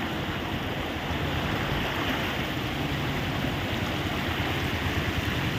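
Floodwater rushing through open residential plots after days of continuous rain in Khammam, a steady loud broadband roar of flowing water mixed with some wind noise, with no talk.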